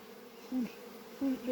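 Honey bees droning at an opened hive during an April inspection, a steady low buzz with two brief louder swells as bees pass close.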